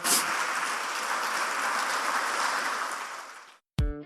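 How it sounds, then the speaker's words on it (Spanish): A congregation applauds at a church service, a dense steady wash of clapping that fades out after about three and a half seconds before an abrupt cut to a tonal sound. "¿Por qué no le da un aplauso al Señor, por favor, en esta tarde?"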